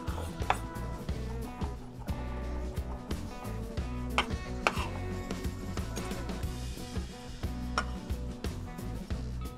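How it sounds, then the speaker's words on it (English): A knife chopping garlic cloves on a cutting board, quick irregular taps repeating throughout, close and fairly faint, set under steady background music with no talking. "I need 2 garlic cloves chopped."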